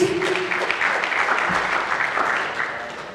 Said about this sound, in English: A round of applause for our state.